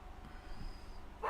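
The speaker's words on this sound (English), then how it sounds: "I got the door open, so you have to suffer through the hound barking" A hound barking beyond an open door, a few short muffled yips and whimpers, faint and distant in a quiet room.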